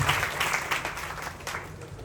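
A public-speaking event audience applauding a speaker, a dense, continuous wash of clapping that is loud and close, holding steady for about two seconds with no speech over it.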